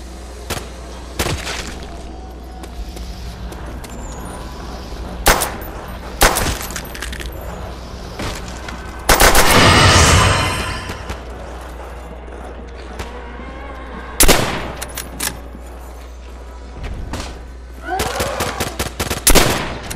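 Bolt-action rifle fire in the Nazi Zombies video game, with sharp, loud single shots spaced irregularly over several seconds, plus one longer burst and a quick cluster of rapid reports near the end.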